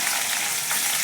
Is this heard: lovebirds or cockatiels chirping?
no